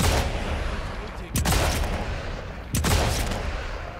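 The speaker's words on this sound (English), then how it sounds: "with you shooting like crazy, man" Rapid gunfire in the video game Sniper Elite 5, dense crackling bursts with two sharp, louder volleys standing out, steady and close with no talk over it.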